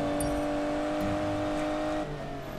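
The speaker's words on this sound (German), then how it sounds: "Fahre mit Höchstgeschwindigkeit durch eine Speed Trap, um deinen Rekord aufzustellen" Car engine in Need for Speed Payback held at top speed through a speed trap, a steady high droning whine with a slight drop near the end.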